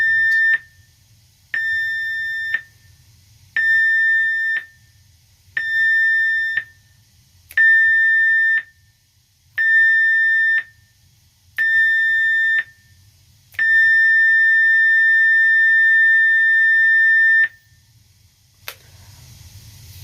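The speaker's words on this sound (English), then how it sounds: "General emergency alarm." A ship's general emergency alarm sounds seven short tonal blasts in a steady rhythm, then one long continuous blast, loud and clear against near silence.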